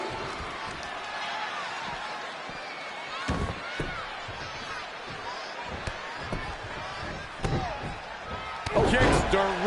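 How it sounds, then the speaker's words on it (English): Heavy impact thuds from kicks to the chest in the wrestling game WWE 2K20, a string of irregular slamming hits and scuffles under a commentator's steady talk, with a louder crashing burst at the end. "Kicks directly to the chest"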